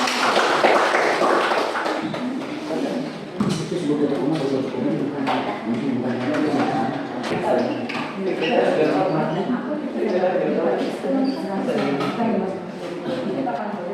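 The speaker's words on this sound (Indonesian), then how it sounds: "Ya, kita tepuk tangan dulu untuk kelompok 1." A classroom audience claps for a presenting discussion group, a dense patter of hand claps lasting over ten seconds, with voices talking underneath.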